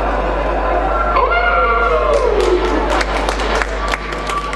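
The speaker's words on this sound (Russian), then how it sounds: "Зрители встретили его очень тепло, аплодисменты и смех не смолкали весь вечер" Audience at an actor's evening applauds and cheers warmly, a dense steady wash of clapping with whistles and voices rising over it throughout.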